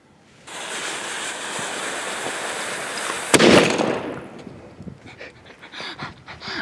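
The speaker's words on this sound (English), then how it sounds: "what happens when you fire a 308 blank at a wild boar" A single sharp blast from a .308 rifle blank fired at a wild boar, one loud report standing out from steady wind-like outdoor noise, followed by rustling and scattered movement sounds.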